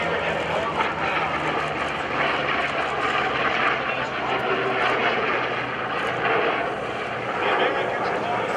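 A US Navy legacy-flight propeller fighter aircraft from the Pacific war drones loudly and steadily at the 2011 Joint Services Open House air show, its engine roar filling the whole stretch, with a voice talking over it.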